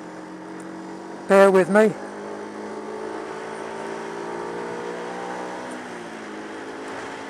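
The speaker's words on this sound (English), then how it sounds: "The bike I'm riding is a Jinlan 125-11" A Jinlan 125-11 motorcycle ridden along a road on a warm winter day, its engine a steady, continuous drone with a shifting pitch, a short spoken remark breaking in early on.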